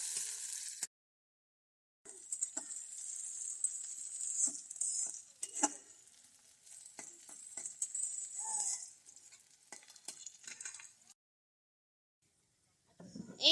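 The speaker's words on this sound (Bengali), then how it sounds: "এবার আমরা পেঁয়াজটা বাদামি করে ভেজে নিব।" Chopped onion and garlic fry in white oil in a wok, a soft steady sizzle broken by scraping and clinking of a stirring utensil, with brief gaps of silence.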